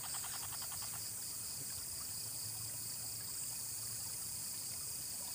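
Creek water flowing steadily at night, a constant soft rushing and trickling alongside high insect drone.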